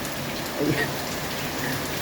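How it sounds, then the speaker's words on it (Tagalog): Steady, dense heavy rain pouring down hard in Baguio City, a constant hiss of drops drumming on a surface with no voices. "Super lakas ang ulan."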